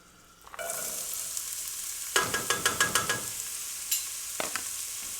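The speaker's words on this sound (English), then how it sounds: "Just watch that little onion when it starts sizzling, which it is." Onions sizzle steadily after hitting hot oil in a pan, with a run of quick scraping stirs in the middle and a few more clatters later.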